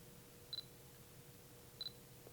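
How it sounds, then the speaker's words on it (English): Two quick pairs of sharp shutter clicks from a Fujifilm X20 camera, about a second apart, close and fairly quiet against a low steady hum. "if I push the shutter button"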